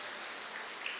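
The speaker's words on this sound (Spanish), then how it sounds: "Un aplauso para todos nosotros" A church congregation at Mass in a chapel claps together, a steady wash of applause heard from a little distance that holds for about a second without any voices.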